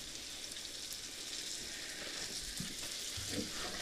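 Salmon pieces frying in a pan seasoned with salt and pepper, a faint steady sizzle and crackle with a few soft clinks and shuffles toward the end, no talking.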